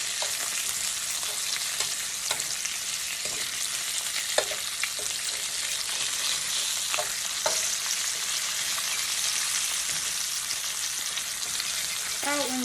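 Bacon frying in a pan for biscuits and sausage gravy, giving a steady, dense sizzle with scattered pops and crackles and a few clinks, close and continuous with no talking.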